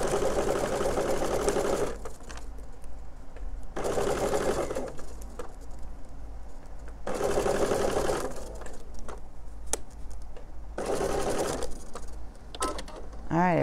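A sewing machine running at a lengthened stitch, several loud whirring bursts of rapid stitching separated by pauses and small clicks, close by, with someone talking in between.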